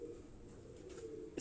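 A pigeon gives a soft, low cooing call from a rooftop loft, faint and short against quiet background noise.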